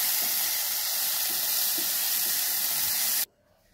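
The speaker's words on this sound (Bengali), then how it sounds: "এখন আমি পেঁয়াজটা ঢেলে দিলাম, দিয়ে ভালোভাবে নেড়ে দিচ্ছি।" Onion frying in a pan with bitter gourd and potato sizzles with a steady, loud hiss, while light scraping taps of stirring break through a few times before the sound cuts off abruptly into near quiet.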